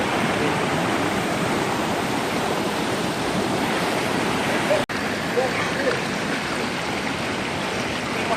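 A rainforest creek on the Coomera Circuit at Binna Burra, Lamington, flows in a steady, continuous rush of water. It stays close and fairly loud throughout, with a brief dropout near the middle.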